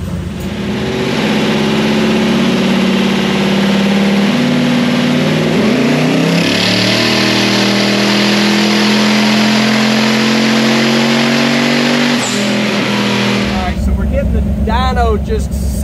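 A twin turbo Hemi engine is strapped down and run on a dyno, droning loudly and steadily with gradual pitch rises and shifts over several seconds before cutting off near the end, with speech mixed in.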